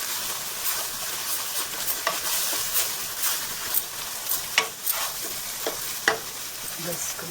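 Garbanzo beans fry in a pan with a continuous close sizzle, broken by repeated scraping stirs at irregular intervals, with no talking.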